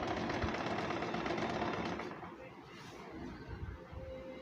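Sewing machine stitching a panel skirt, a rapid mechanical whirring chatter that runs steadily for about two seconds, then slows and softens into intermittent rattling.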